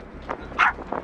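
A few short dog barks and yips, close by and quick, over a low steady background hum, on a boat among other boats.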